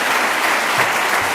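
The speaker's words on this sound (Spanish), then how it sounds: "Aplausos para nuestro Dios" Steady applause from a church congregation in worship, a brief continuous burst of dense clapping with no pause.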